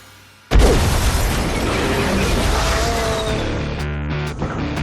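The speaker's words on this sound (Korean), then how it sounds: "총으로 차량을 폭발시킬 수 있다는 설정은 충분히 현실적이라 할 수 있습니다" A car blown up by gunfire in a movie action scene: a sudden heavy boom followed by a sustained roaring, crackling blast that rumbles on, with debris clattering near the end.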